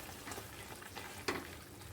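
Spiced masala sizzles steadily in released oil after a little yogurt is stirred in for an Afghan egg curry, with soft frying crackle, stirring scrapes and one sharper clack near the end.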